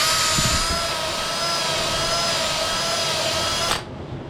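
Steady high-pitched whine of a power drill spinning a hone inside the rear master cylinder bore of a KZ1000 motorcycle, continuous and close, cutting off abruptly near the end.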